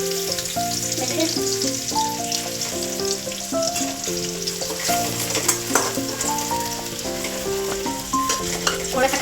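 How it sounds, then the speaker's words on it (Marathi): Onion and vegetables fry for street-style vegetable chow mein, giving a steady, close hiss and sizzle as they are stirred in the pan. Melodic background music plays throughout. "त्याच्यानंतर टाकायचा कांदा, मस्त थोडंच फ्राय करायचा"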